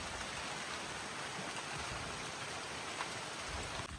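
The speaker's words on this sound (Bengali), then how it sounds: "বাবা এ তো বৃষ্টি শুরু হয়ে গেছে।" Rain begins falling outdoors over a field, a faint, steady, even hiss of drops with no voices and no change in intensity.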